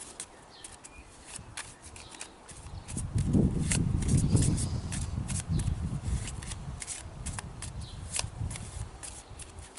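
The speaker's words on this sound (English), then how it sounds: "then I'm going to shuffle the cards" Cards being shuffled close up, a rapid riffling patter that builds and grows louder midway, then eases off into lighter rustling.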